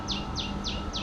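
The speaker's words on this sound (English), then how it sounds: "I'm definitely gonna miss those birds chirping" Birds in Pattaya, Thailand give four evenly spaced, sharp descending chirps, clear and fairly close over a steady low background hum.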